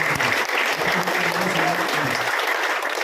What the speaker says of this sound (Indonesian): tolong silakan tepuk tangan